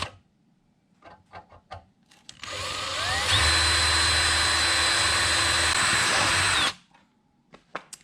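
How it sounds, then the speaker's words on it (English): A power drill bores a hole for a piano hinge on an antique toolbox: one loud, sustained whine of about four seconds that ramps up in pitch and then cuts off, with soft handling clicks before and after. "So that'll be my last hole that I'll drill."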